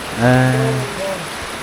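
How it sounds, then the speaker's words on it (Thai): Rain falls in a steady, loud hiss, with a short voice-like tone rising briefly over it near the start. "ฝนตกแล้วบ่ค่อยได้ยินเสียง"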